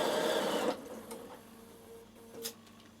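A Bernina sewing machine top stitching a fabric wrap: a steady mechanical whir that runs hard at first, then softens into lighter ticking and stitching, fairly close and quiet, with no speech.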